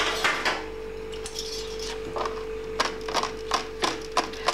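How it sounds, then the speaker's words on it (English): Strawberry ice cream mixture whisked in a bowl for commercial ice cream making, heard as a series of sharp clinking taps and scrapes against the bowl, irregular at first and then a quicker run of hits, with a steady hum underneath. "we're going to give this a whisk."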